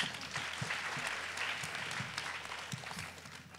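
A crowd at a talk on learning, creating and speaking out gives a soft, continuous round of hand clapping, heard fairly distant and even for the whole stretch.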